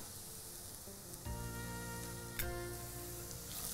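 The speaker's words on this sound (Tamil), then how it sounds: "இப்போ துருவின பனங்கிழங்க இதில் போட்டுடலாம்" Grated palm tuber sizzles and crackles in a hot pan as it is stirred, a steady close frying hiss that swells louder partway through as more goes in, with brief scraping bursts.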